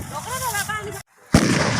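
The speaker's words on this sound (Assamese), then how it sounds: "এয়া বোমা ফুটোৱা দৃশ্য। এই সভাত এনেদৰে বোমা ফুটোৱা হয়।" A single loud, sharp firecracker blast bursts out after a brief pause, following a stretch of talking voices and crowd noise at a temple's annual festival.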